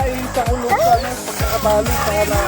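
A large, fat dog whimpers and yips in short high-pitched cries while resting outdoors at a clubhouse on a hot day, with voices and some harmonic tones mixed in around the repeated whines.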